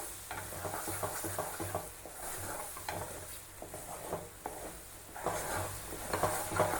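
A mashed red banana mixture stirred in a hot cooking pan, with steady spoon scraping and a soft sizzling underneath, repeated stirring strokes close and fairly quiet.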